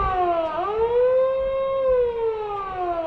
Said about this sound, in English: You might be able to hear the horn when she blows the horn.